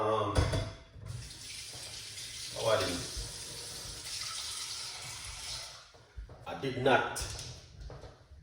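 Overnight-soaked cerasee tea being drained, a splashing, trickling pour of liquid close by with a pause partway and a second burst of flow, under steady background hiss.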